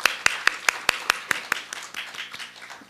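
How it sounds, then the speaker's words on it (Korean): A congregation at a church seminar claps in unison, a run of sharp, evenly spaced beats that are crisp at first, then loosen into softer scattered claps before fading out. "하나님께 영광의 박수 한번 드리겠습니다"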